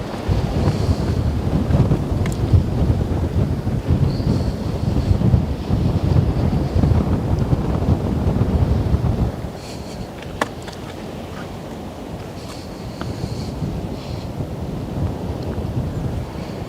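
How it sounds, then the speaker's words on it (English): Wind buffeting a microphone on the Westerschelde shore in the Netherlands, a loud continuous rumbling roar that drops to a softer, steadier rush halfway through, with no voices. "wind has definitely died down a little bit"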